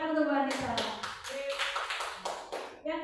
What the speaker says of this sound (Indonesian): Tepuk tangan untuk Bu Anita.